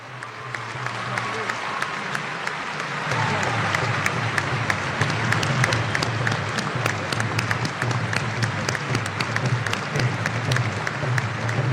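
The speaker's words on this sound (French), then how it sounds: "Je vous invite donc à vous tenir debout pour les magnifier par des applaudissements nourris" A standing crowd at the opening of a film and television festival applauds prize winners with sustained, dense clapping that swells after the first few seconds and stays loud and even throughout.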